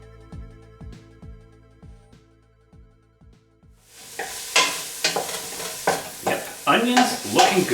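Onion and garlic cooking in a pan: a few seconds of soft knocking as the pan is stirred, then a loud, close sizzle with repeated scraping stirs as the vegetables sauté.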